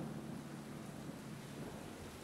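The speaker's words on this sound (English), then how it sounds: "Actually, I think we got a little bit of thunder there." Thunder sound effect triggered by a gesture sensor that detects angle and rotation, heard as a faint, steady rumbling wash like distant thunder and rain, with no voices.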